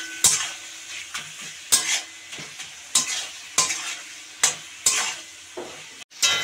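Spice masala of chilli, cumin and turmeric powder stir-fried in a pan for fish head curry, a steady sizzle punctuated by repeated scraping strokes of a spatula at a regular rhythm, close and clear without talk.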